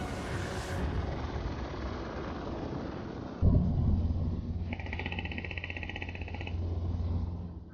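Helicopter used for hunting wild boar, a dense rotor and engine roar that shifts midway to a steadier drone with a whining tone, loud and continuous throughout.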